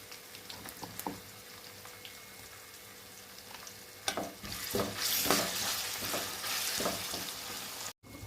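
Potato and drumstick curry fries in a pan with ginger garlic paste. A quiet sizzle with a few knocks turns into louder, hissing frying with stirring after a fresh addition, close by.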